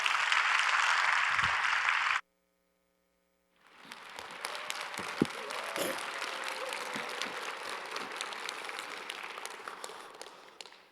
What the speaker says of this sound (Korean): 우리 나오실 때 우리 뜨겁게 박수로 우리 환영하고 우리 영광 돌리도록 하겠습니다